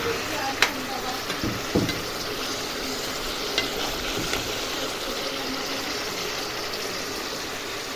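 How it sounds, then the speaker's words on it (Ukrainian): Meat sizzles steadily in a hot pan, a continuous crackling hiss with a few soft clinks of stirring. "Хай смажиться."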